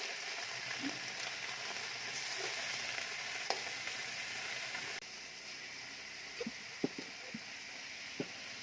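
Chicken frying in oil for chicken adobo, a steady bright sizzle filling the whole stretch with a few sharp pops and spatters near the end.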